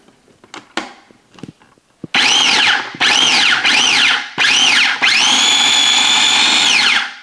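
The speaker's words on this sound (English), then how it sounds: "We're going to grind this up pretty good." An electric grinder whirs through herbs for a crust on a smoked whole leg of lamb, starting after some handling clatter with several short loud bursts, then one long sustained run; close and loud.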